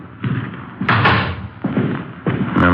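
Apartment front door being tried and opened, a series of loud close thuds and rattling bumps in short bursts, with a faint high squeak near the end.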